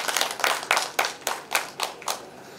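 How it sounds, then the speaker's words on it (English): Audience at a national forum giving a round of applause, a handful of distinct hand claps in an irregular rhythm, fairly faint, with no talking. "Please give them a round of applause"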